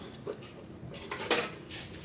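A small batch of two-part glue gets stirred for repairing a washing machine spin-dryer motor, producing faint, sparse clicks and scrapes of the stirring tool against a hard mixing surface, with one sharper tap near the middle.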